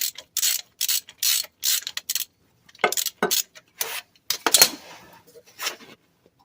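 A ratchet clicks in quick bursts while working on the axle of a 1998 Ram 1500 during U-joint and axle seal work, close and fairly loud, stopping and starting in several short runs with brief pauses between.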